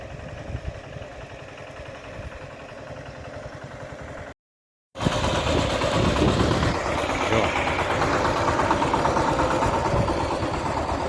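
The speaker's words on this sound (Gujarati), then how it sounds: "અમારું ટ્રેક્ટર ભર ભરીને આવે છે" A steady, low tractor engine idles and rumbles throughout, broken by a brief dropout of silence before the loud chugging resumes.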